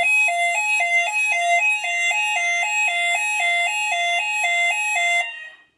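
A Hochiki fire alarm Vortex sounder goes off during a weekly test of an addressable system, blaring a loud, rapid two-tone warble that alternates steadily for several seconds before cutting off abruptly.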